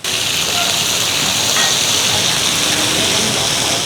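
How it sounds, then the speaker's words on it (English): Thin slices of marinated beef with a fried egg sizzling on a hot cast iron plate, a loud continuous close hiss and crackle of spitting oil running throughout. "when this sizzling plate hits the table, you'll want to dodge the flying oil"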